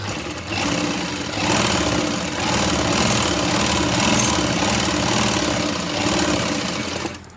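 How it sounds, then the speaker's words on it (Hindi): A sewing machine runs a double line of stitching on palazzo pants, its loud, steady mechanical whir continuing without a break for the full stretch, with no talking. "अब इसको भी हम डबल सिलाई कर लेंगे।"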